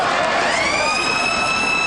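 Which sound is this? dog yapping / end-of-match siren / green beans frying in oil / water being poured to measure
end-of-match siren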